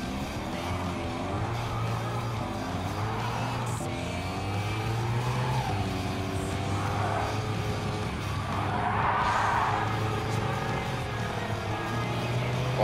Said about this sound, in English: the engine on that hot rod I just passed. That sounded awesome.